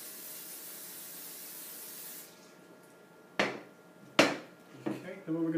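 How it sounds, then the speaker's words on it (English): Non-stick cooking spray hisses into a large bowl in a few short, close bursts, the first longest, over a quiet room with faint background noise. "We're going to spray it with some non-stick cooking spray."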